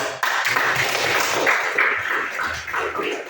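Classroom of students applauding together, a dense burst of many hands clapping close by, steady and lively for a few seconds.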